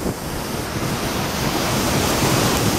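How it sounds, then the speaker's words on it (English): Waterfall at Bar Creek Falls near the Rogue River in the Union Creek area in January: a dense, steady roar of rushing water with wind-like hiss, constant and fairly loud throughout, with no voices. "I think that's Bar Creek Falls."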